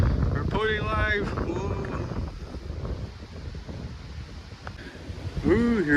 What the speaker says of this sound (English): See all the wind blowing? That's all the trees.